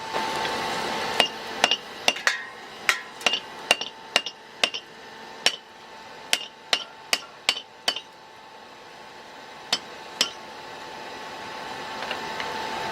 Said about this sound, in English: so I have to smack it a couple times, move it, put it back in the fire.